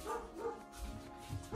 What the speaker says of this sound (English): my husband let the dogs in and now TC's clearly uncomfortable